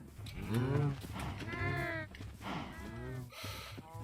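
Minecraft cows lowing in several drawn-out moos one after another, close and fairly loud, with a voice talking faintly in between.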